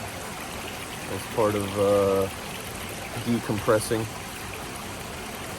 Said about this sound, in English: I'm here sitting next to a little river